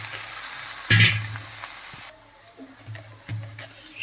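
Sliced ridge gourd and beans sizzle and fry steadily in an oiled pan with ginger paste for a Bengali mixed-vegetable dish, with a louder burst of crackling near the start and a calmer hiss later.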